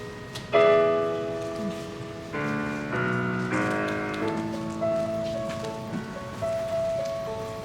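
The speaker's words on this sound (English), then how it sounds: "So, it did rain." Heavy rain falls steadily beneath sustained musical tones, a broad hiss of drops that stays loud throughout with no talking.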